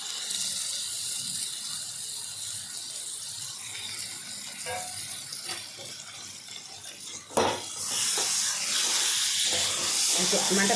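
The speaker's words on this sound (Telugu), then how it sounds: "కూర శుభ్రంగా కడిగి పక్కన పెట్టుకున్న కూర వేసేస్తా ఉన్నది." Washed vegetables for a curry hit a hot pan and set off a steady hissing sizzle that swells to a louder burst partway through and keeps going, with background noise under it.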